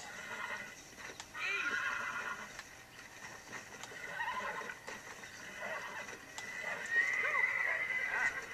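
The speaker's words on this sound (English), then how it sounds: "A pure white horse against a pure black horse." Horses neighing and whinnying in the Red Dead Redemption video game, with repeated calls over hoof clip-clop and a busy ambient background of moderate loudness.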